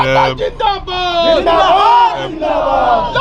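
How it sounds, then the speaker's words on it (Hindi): Crowd of thousands roaring and cheering at a political rally in Madhubani, a loud, continuous wall of excited voices with shouted calls rising above it throughout. "हजारों की भीड़ है सर"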